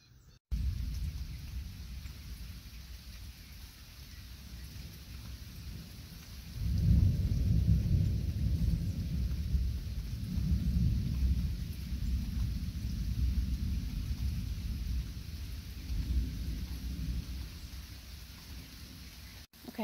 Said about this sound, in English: The rain, it just keeps coming in bands